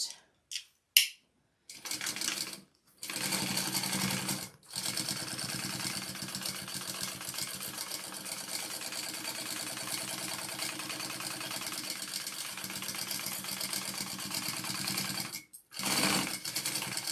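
A sewing machine basts a seam through spring box fabric, running in a fast steady mechanical whir for long stretches with brief stops and restarts, close and loud.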